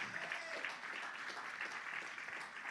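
Church congregation applauding together, a steady dense wash of many hands clapping at moderate distance, fairly soft and continuous with no talk over it.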